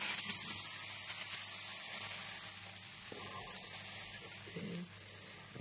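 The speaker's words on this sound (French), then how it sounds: "Là, je démarre ma première crêpe. Donc la poêle, elle chauffe." Crêpe batter sizzling in a hot frying pan, a steady broad hiss that holds throughout at moderate level, with a few faint kitchen clinks and no talk.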